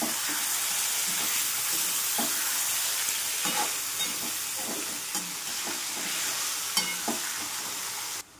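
Drumstick pods frying in oil and salt for a dal and drumstick curry sizzle steadily, with a close, continuous crackle broken by regular scrapes and knocks of a spoon stirring the pan.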